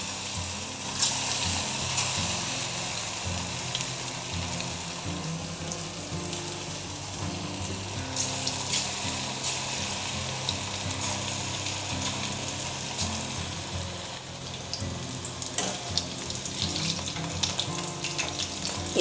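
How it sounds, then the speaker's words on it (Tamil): Chicken 65 pieces deep frying in hot oil for a restaurant-style dish, giving a continuous crackling, watery sizzle that holds steady for about nineteen seconds over a tonal background. "சிக்கன்ஸ் வந்து போட்டுடலாம்."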